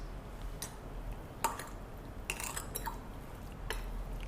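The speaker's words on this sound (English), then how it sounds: "Now let's mix all the ingredients." Spoon scrapes and taps against a bowl while chicken is mixed with ginger garlic paste and chili powder, giving a few faint, irregular clinks over a quiet background hiss.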